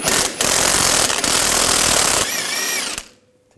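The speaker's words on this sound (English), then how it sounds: "Now I'll take this nut off, use a 24mm socket." Power tool spinning off a nut with a 24mm socket while replacing the front steering rack and pinion bellows on a 2011-2018 Volkswagen Jetta, a loud harsh burst of about three seconds with brief dips, then a rising whine before stopping.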